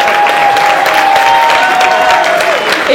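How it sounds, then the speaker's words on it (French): Audience at a cultural event in Paris claps steadily, a loud, close wash of applause with a whistle or cheer riding over it throughout. "applaudissez pour Bajou."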